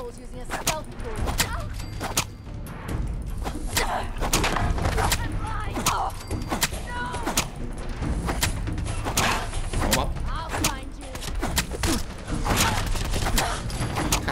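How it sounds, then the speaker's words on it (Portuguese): Rapid, dense bursts of minigun fire in Fallout 4 rattle through the scene, mixed with thumps and impacts and layered under people talking. "Ela tinha uma mini metralhadora com ela."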